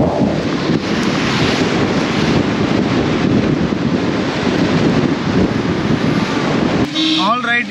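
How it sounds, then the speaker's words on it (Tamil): Cyclone Mandous wind and rain battering a car on a drive toward Chennai, a loud continuous roar of gusts buffeting the microphone, with a brief voice-like burst near the end. "ஒரு மாதிரி பாகியாக காற்று, மழை மழை வந்து அடிச்சுக்கிட்டே இருக்குது."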